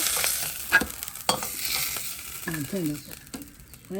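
Coriander and ivy gourd leaves sautéing in a pan for a sambal, giving a soft, steady sizzle broken by a few scraping stirs of a spoon against the pan.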